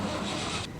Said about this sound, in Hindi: रेशमा गाड़ी स्टार्ट करने में जुट गई।